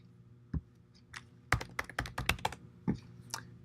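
Someone typing a short command on a computer keyboard, a few isolated key taps followed by a quick burst of close, crisp clicks, then a couple more scattered presses in a quiet room.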